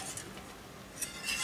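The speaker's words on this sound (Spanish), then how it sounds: "Batimos bien enérgicamente con la varilla al principio para disolver el roux" Wire whisk beating milk into a roux for béchamel sauce for croquettes in a pot, a soft, continuous scraping and swishing with faint metallic clinks, close and alone.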